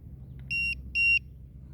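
Two short electronic beeps in quick succession from an RC helicopter battery voltage alarm set to 3.6 volts per cell, shrill and steady tones over a low background hum, indoors.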